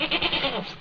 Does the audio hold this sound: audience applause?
no